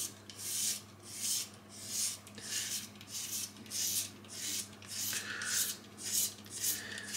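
A Headblade ATX razor scrapes hair off a head in close, rhythmic rasping strokes, about one per second, fairly quiet with no speech.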